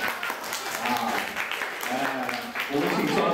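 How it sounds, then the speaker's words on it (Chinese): Junior high school students in a classroom give a quick round of applause, a continuous patter of many hands mixed with voices talking over it. "觉得不错，掌声鼓励一下。"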